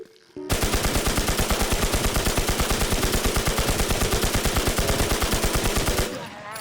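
Rapid automatic gunfire from a boss fight in the shooter game Infestation The NewZ, a loud, unbroken burst of evenly spaced shots lasting about five and a half seconds before cutting off.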